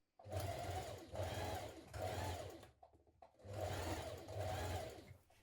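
A domestic sewing machine running a zigzag or stretch stitch around the neckline of a Burda 6602 top, sounding as five steady, close whirring bursts of about a second each with short pauses between.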